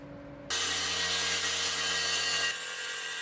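A saw rips through a red oak board for about two seconds, a loud steady whining cut that starts abruptly and drops back to the saw's idle hum, close by.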